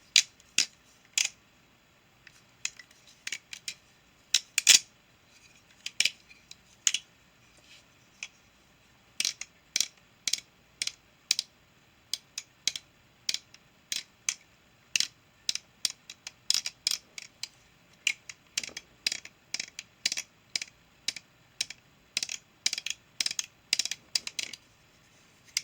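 A TheOne Original Point balisong trainer is flipped, its handles and latch giving off a steady run of sharp metallic clicks and clacks, irregular at first and then rapid and dense, close up with no talking.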